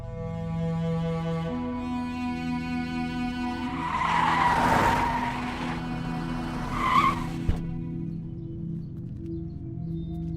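A car pulls away with tires skidding and squealing, two sharp screeches rising over a steady background drone, fairly loud and near, with a short thud near the end.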